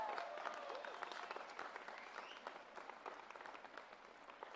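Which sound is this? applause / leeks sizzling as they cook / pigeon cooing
applause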